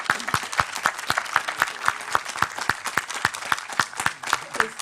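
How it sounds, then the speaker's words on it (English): Applause for Greta at a film competition gala screening at COP26: distinct, fairly sparse claps in an uneven rhythm, close and moderately loud, sounding like a small group rather than a full crowd. "Round of applause for Greta"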